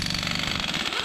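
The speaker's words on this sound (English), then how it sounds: "Now let's try loosening it with the Aircat." An Aircat 1178-VXL half-inch air impact wrench loosens a nut tightened by a Snap-on gun, a loud close rapid hammering burst that runs through the whole moment.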